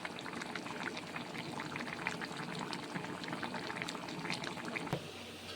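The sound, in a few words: water boiling in pot for chicken biryani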